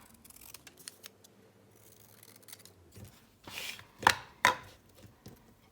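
Scissors snip through paper for a junk journal, a few soft cuts at first, then two or three sharp, loud snips close by with nothing else heard.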